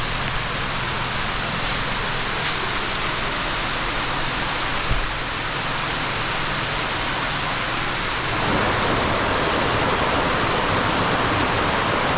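A waterfall at a camp spot in the Ozarks gives a steady, loud, broadband rush of falling water that fills the whole clip and grows slightly heavier near the end, with no voices.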